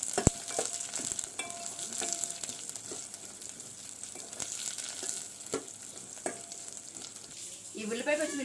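Onion pieces and slit green chillies fry in a pan for a horse gram soup, giving a steady close sizzle with scattered clinks of a stirring spoon and a brief louder bubbling near the end.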